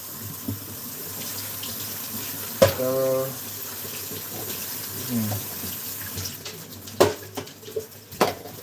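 Tap water runs in bursts as food is rinsed at a kitchen sink, with a gentle splash and faint clinks of dishes.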